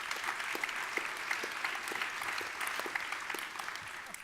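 A conference audience claps together in the hall, a dense, steady patter of many hands that carries evenly for several seconds before easing slightly at the end, heard with no speech over it.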